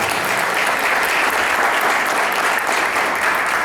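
An audience at an event on Afro-descendants, drums and censuses in Argentina breaks into loud, dense applause, steady and sustained throughout with no voices standing out.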